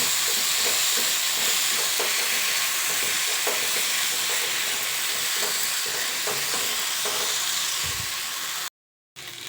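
Kitchen King masala frying in a pan for chana masala, a loud continuous sizzle with faint stirring taps throughout, briefly cutting to silence near the end.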